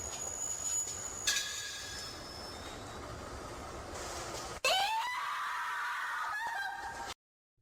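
A woman screams sharply in the middle of a ghost scene, a loud rising shriek that cuts in abruptly over a noisy background and holds for a couple of seconds before stopping dead.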